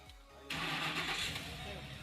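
A 2008 Ford Expedition, just fitted with a new fuel pump, cranks briefly and then starts, its engine catching abruptly and settling into a loud, close, steady idle; someone talks over it.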